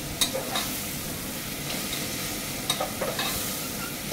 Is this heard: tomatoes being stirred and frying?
yes